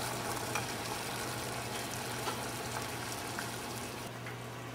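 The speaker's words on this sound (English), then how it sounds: "Okay, it's come up to a boil now." A pot of water with a couple of drops of lemon bubbles steadily toward a boil, giving a soft continuous hiss and faint popping over a low steady hum, with no voices.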